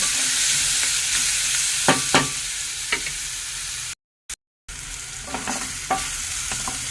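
Ginger, garlic and green chilies fry in a pan for rajma curry with a constant sizzle, broken by scraping stirs. The sound drops out briefly partway through, then the frying continues.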